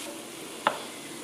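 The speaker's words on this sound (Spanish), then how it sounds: "Bueno, aquí ven cómo se están friendo." Shrimp tails fry in a pan for seafood rice, a soft continuous sizzle broken by one brief sharp clink of a utensil against the pan.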